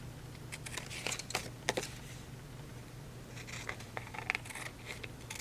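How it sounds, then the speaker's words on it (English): Scissors snip through the excess washi tape on both sides of a craft piece, a series of crisp, close cuts in two bursts over a steady low hum, with no talking. "Now I'm going to flip it over and trim the excess off of both sides."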